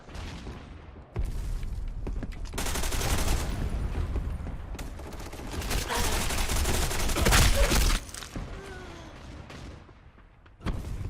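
Sustained gunfire in the free-to-play FPS game Black Squad, dense overlapping bursts with loud booming shots and some ricochet-like noise through most of the stretch, easing near the end before a final shot.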